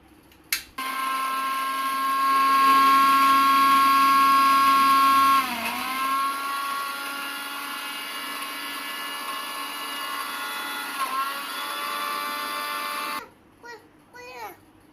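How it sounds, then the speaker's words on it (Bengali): An electric blender grinds hog plums with sugar and black salt, no water added, for juice: a loud steady whining motor hum that shifts pitch as the load changes, then cuts off. "তারপর আমরা পানি দেওয়া ছাড়াই এটা কিছুক্ষণ ব্লেন্ড করে নিব।"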